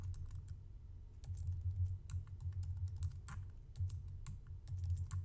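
Keys clicked on a computer keyboard in scattered bursts, close and fairly quiet over a steady low hum, with no talking.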